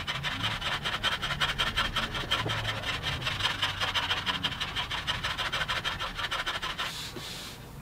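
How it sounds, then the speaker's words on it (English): A hand plane set for paper-thin cuts shaves the high spots off a black walnut tabletop. Repeated rasping, scraping strokes run continuously at close range, and the sound fades briefly near the end. "Now I have this hand plane set to cut paper thin shavings."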